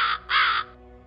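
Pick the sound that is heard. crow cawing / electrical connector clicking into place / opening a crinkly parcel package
crow cawing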